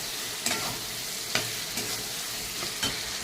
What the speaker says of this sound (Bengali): এখন কিন্তু আমি দিয়ে দেবো আলু ভাজাটা